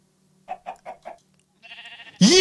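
Video game chicken in a medieval strategy setting with Mongol horse archers, giving four short clucks in a quick rhythm, then a brief pause before a louder squawk-like burst at the end; no talking.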